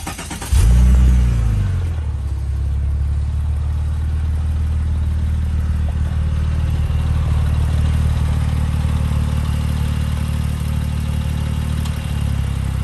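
A car engine cranks and catches with a brief rising rev, then settles into a loud, steady, deep idle that runs close and unbroken to the end, with no talking.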